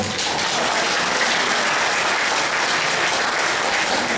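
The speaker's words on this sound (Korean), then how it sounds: "참전용사 몇 분 계시네요. 저 박수를 보내주시죠." A lecture audience gives a continuous, loud round of applause for Korean War veterans, with dense, even clapping that fills the room without pause.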